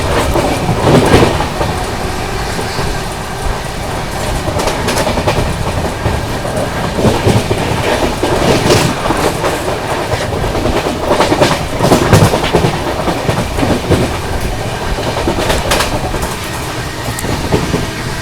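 Inside a Duronto Express train speeding through Nagda Junction without stopping, a loud steady rumble of wheels with rhythmic clickety-clack over rail joints and brief rattles, continuous and close.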